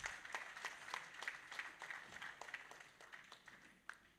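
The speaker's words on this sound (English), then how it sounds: "One more round of applause just as he takes his seat." An audience at a book launch applauds a former president as he takes his seat. The clapping is faint and distant, a steady patter of many hands that slowly fades.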